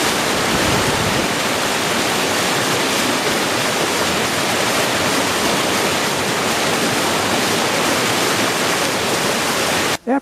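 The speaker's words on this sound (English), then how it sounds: "Beautiful rapids." River rapids on the Bloodvein River route from Wallace Lake rush in a constant, loud, full roar of churning water that stays steady throughout.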